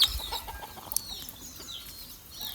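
Chicks in a poultry shed give a few faint high cheeps over a low rustling background, heard close with no talk.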